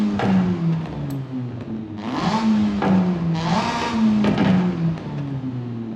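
Stock twin-turbo rotary engine of a Mazda RX7 in Forza Horizon 5 revving loudly and continuously, with pitch rising and falling over several surges.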